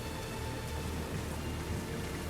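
Steady rainfall at a castle inner sanctum in the PS5 game Unicorn Overlord, a constant hissing patter of drops, moderately loud, with no voices over it.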